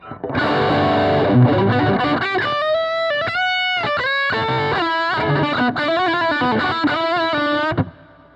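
Distorted electric guitar lead with subtle reverb from the Crabtree tone print, a continuous run of sustained notes and bends for several seconds before cutting off cleanly.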